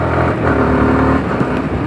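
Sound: Yamaha R15 V3 motorcycle revving on the accelerator

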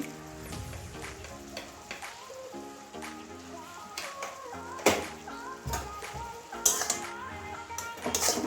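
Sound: stirring salt into bottle gourd milk curry

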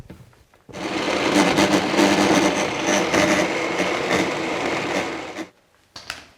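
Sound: blending hummus with avocado and a little water

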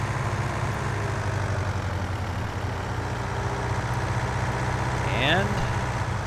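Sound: tractor engine in video game Farming Simulator 2019

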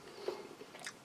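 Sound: chewing a soft British Army ration item

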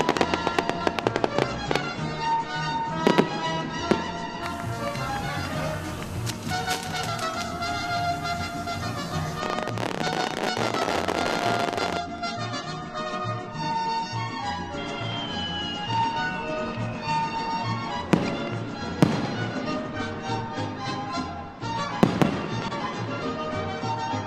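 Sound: fireworks and firecrackers at a Mexican fiesta

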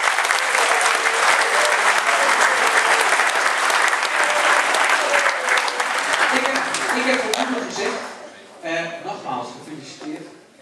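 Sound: applause at graduation ceremony

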